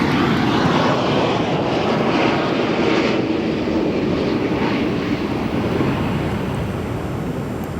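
A KLM airliner roars past at O'Hare airport, a loud, steady, broadband jet rumble that fills the whole stretch, with some wind buffeting the microphone.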